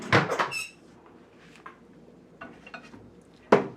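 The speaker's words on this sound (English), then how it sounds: "Then we put in the microwave oven." Someone works a microwave oven while baking big coconut oatmeal cookies. A sharp clatter of the door opens the stretch, then quiet handling noises follow, and a firm closing thud lands near the end.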